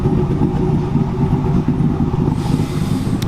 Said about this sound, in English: you can hear it back here chopping.